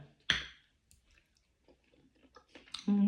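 Close, wet chewing of a bite of ripe mango, with a sharp bite at the start and soft squishy mastication after, ending in a louder burst of mouth noise.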